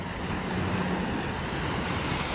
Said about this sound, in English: you hear the waves